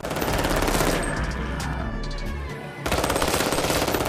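Rapid automatic gunfire rattles almost nonstop in a mobile zombie shooter game, dipping briefly before another loud burst of shots.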